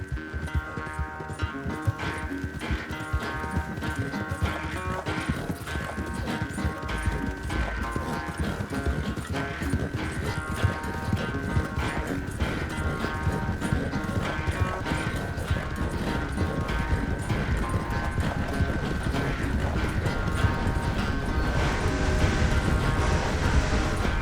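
Horse hooves clip-clop steadily in Red Dead Redemption 2, a continuous galloping rhythm layered under a dense, loud game music score, with an occasional whinny.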